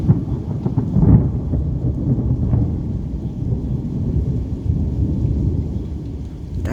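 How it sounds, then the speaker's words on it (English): Thunder from an early morning thunderstorm rumbles low and steady, with a louder boom near the start and rain falling throughout. "Sometimes, occasionally, you'll get a big boom for a treat from the thunder."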